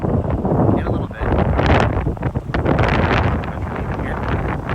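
Strong gusting wind buffets the microphone at MSP airport during plane spotting, a loud continuous roar of rumbling turbulence that fills the clip.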